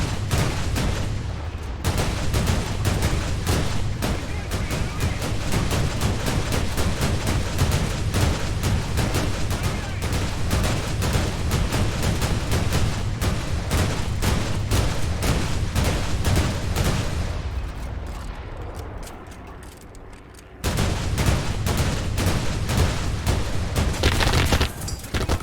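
Sustained, dense bursts of tank cannon and machine-gun fire in a WW2 tank video game, loud and near, rattling almost continuously with a brief lull before resuming.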